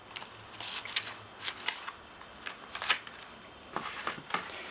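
Paper instruction manual and warranty cards from an Oppo Find 7 phone box being handled, giving soft, close rustles and light papery flicks in several short bursts over a quiet background.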